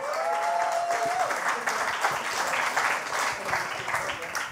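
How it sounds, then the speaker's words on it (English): A crowd applauds steadily throughout at a science slam, dense clapping at an even level, with a brief tonal sound near the start. "Applause."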